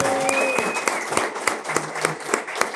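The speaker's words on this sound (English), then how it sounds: "Everybody give Peggy a round of applause, please" Live audience applause during a bourbon pairing show, steady clapping filling the whole moment with sharp individual claps punching through, no talking.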